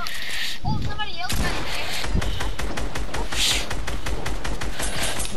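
Rapid automatic gunfire in the Fortnite video game, a dense loud burst of shots in quick succession after a brief pause, heard over a player's voice.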